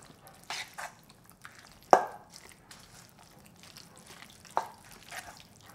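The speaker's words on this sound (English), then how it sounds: "And mix this with a spoon." A spoon mixes seafood pancake batter in a bowl with sesame oil, producing soft, wet stirring and squelching with a few sharper clinks against the bowl, close and fairly quiet, with no speech.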